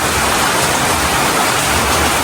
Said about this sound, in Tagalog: thank you Lord at umulan din po. Unang ulan ng Mayo.